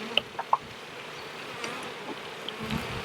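Honey bees swarm around an opened hive in Texas, giving a steady, soft droning buzz throughout, with a few sharp ticks near the start and no voices.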